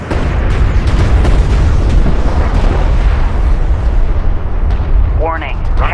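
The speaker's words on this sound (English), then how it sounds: "Target locked. Fire missiles." Missiles fire and explode in Homeworld: Deserts of Kharak, a dense run of heavy booms and blasts rumbling continuously, loud and close, with a synthetic game voice speaking over the barrage.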